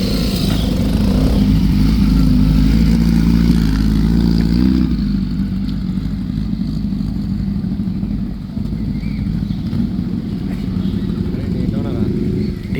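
Several motorcycles, Royal Enfield GT 650s among them, rev and idle at a superbike meetup. The engines are loud and close, rumbling heavily and fading slightly after the first few seconds, with crowd chatter underneath.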